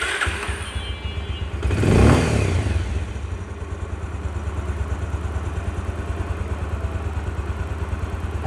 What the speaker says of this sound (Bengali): বাইকটা এখন আমরা স্টার্ট দেব